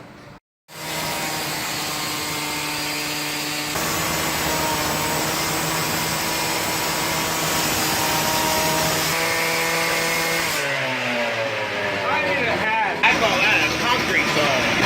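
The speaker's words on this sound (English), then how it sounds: "that's a demo saw" A gas demolition saw cuts through a Toyota Tacoma cab mount with a loud, sustained high-revving whine close by, its pitch shifting as the blade bites and then winding down near the end.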